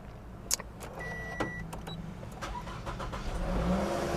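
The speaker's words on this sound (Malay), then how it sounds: "sebelum tu saya start kereta dulu" A luxury seven-seat MPV car starts up after a few clicks inside the cabin, its engine catching and settling into a rising, moderately loud idle rumble.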